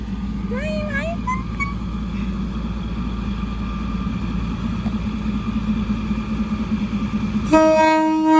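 A train passes through Salaya railway station in Thailand, its low steady rumble filling the whole stretch, with people talking over it and a loud horn blast sounding near the end.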